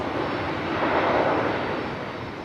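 Frontier Airlines jet passing at Raleigh-Durham airport, a loud continuous engine roar with broad hiss that swells slightly and then eases, steady throughout with no voices.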